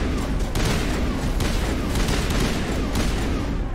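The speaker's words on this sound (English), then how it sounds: "Oh, I like the sound of this gun." Gunfire from a weapon in Mass Effect: sharp, rapid shots repeat in quick bursts over a dense noisy backdrop, loud and close, with no talking.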